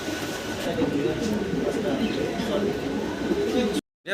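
Many pigeons in a seller's loft coo together in a soft, continuous, overlapping murmur that stops abruptly at the end.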